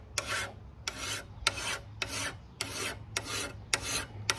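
Hand file sharpening a lawn mower blade straight across the edge, eight steady rasping strokes at an even rhythm, close and clear with no talk.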